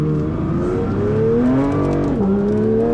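A Porsche 911 GT3 MR's engine roars steadily under load, its exhaust pitch climbing, dipping briefly and rising again as the car accelerates hard nearby.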